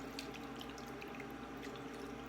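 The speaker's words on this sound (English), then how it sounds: "I'm using red wine, but you can use white wine. And we can just pour that on top." Red wine poured from close by over ribs in a braising pan, a continuous liquid splash and gurgle lasting a couple of seconds, with no talking.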